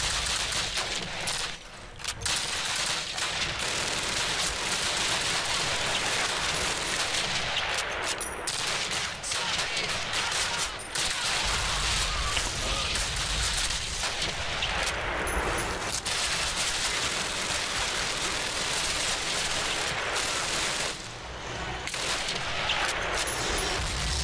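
Continuous machine gun fire and fusillades in a Call of Duty railway yard battle mission, dense overlapping bursts and explosions filling the scene loudly for the whole stretch with hardly a break.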